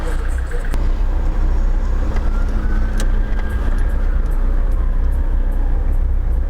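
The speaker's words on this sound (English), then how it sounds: "So like cars and bikes, they zoom along the median strip and try to get in front" Dense road traffic with cars and motorbikes rushing past in a city street, a loud, constant roar with engines swelling and fading and occasional horn-like tones.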